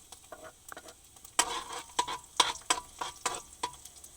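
Garlic sautéing in a pan as the base for ginisang labong with dilis, with quiet sizzling broken up by a run of sharp clicks and stirring scrapes of a utensil against the pan, close by.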